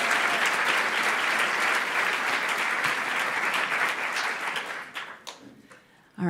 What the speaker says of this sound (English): So please join me in giving these two women a round of applause for joining us.